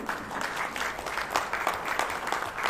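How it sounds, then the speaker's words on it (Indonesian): A crowd at a corporate event in Jakarta claps for the company's management team, a brief burst of lively, continuous applause heard at a moderate distance. "Tolong berikan aplausnya, tepuk tangan yang meriah buat para manajemen yang ada di PT True Life Empire"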